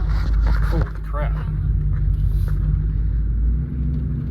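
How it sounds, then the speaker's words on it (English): Sudden strong gusts buffet a truck during a dust storm on a trail, a loud steady low rumble pressing against the vehicle with scraping noise, while people inside talk over it. "Just got really windy."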